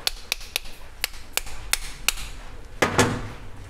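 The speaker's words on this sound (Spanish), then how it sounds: "Con un martillito le daremos unos golpecitos" A small hammer taps out the pin of an SRAM bicycle brake pad, nine or so crisp, evenly spaced metallic taps close up, ending in a heavier knock as the pin shifts.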